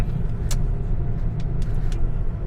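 A 2021 MG HS with a 1.5T engine runs downhill in a low gear, a steady, close engine hum and road rumble with no speech.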